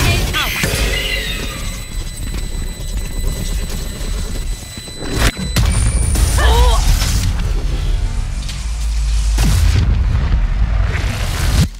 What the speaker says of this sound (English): Bomb grenade out.